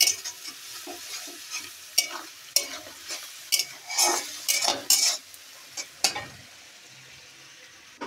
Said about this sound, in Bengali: মশলায় যে পাকানো হচ্ছে কড়াইতে